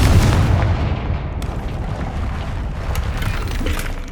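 A Confringo blast spell strikes a barrier in Hogwarts Legacy, opening with a loud, deep boom that settles into a dense, rumbling roar with scattered crackles, all without speech.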